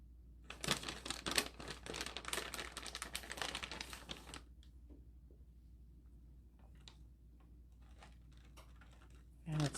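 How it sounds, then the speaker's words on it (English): Aluminum foil crinkles and rustles in a home kitchen while being pulled over a butternut squash and apple casserole, a dense burst of crackling in the first half that thins to scattered faint rustles and soft handling noises. "I am going to cover it with foil."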